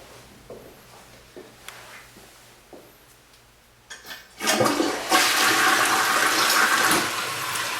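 A household toilet flushes loudly, a sudden rushing roar of water starting midway after a few quiet handling sounds, then a steady refill gush continuing close by to the end.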